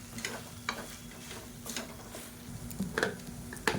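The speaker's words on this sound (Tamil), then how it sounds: "இப்போ அந்த சாதத்தை போட்டு நல்லா மிக்ஸ் பண்ணிவிட்டுக்கலாம்" Cooked basmati rice is stirred into soya chunk masala in a pan, a quiet sizzle under repeated scraping and tapping of a spoon against the pan, with no voices.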